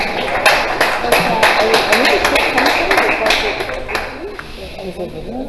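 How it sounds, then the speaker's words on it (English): Audience applause at a startup demo night welcomes the next presenter, a steady wash of clapping with sharp claps throughout, while voices murmur and talk underneath. "Let's give her a round of applause"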